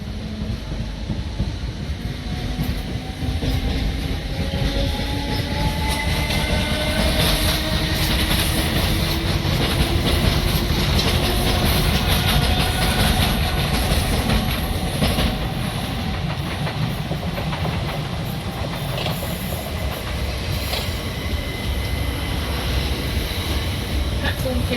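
Trains roll through Clapham Junction station in London with a steady, loud rumble and clatter of wheels over rails, faint tones rising and falling as carriages pass close by, while station announcements sound over the din.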